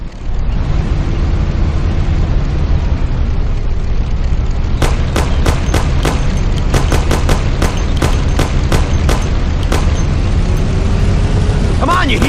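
A Thompson submachine gun rattles off rapid, closely spaced shots in the game Mafia: The City of Lost Heaven. The shots come in a loud, sharp run over a constant rumbling background, followed by a few more scattered reports.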